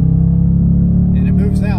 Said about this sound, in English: So let's give it a little bit of gas.